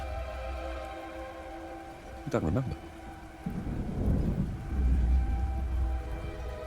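A rainstorm with a thunder crack in the video game Warhammer Age of Sigmar: Realms of Ruin, a steady rain hiss with one sharp thunder burst and rolling rumble, heard under a brief spoken line.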